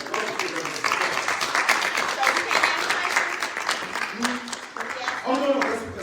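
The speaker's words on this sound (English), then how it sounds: "can we please give all of our candidates a round of applause?" Applause from a township supervisor forum audience for the candidates, a dense steady wash of clapping lasting several seconds with voices mixed in near the end.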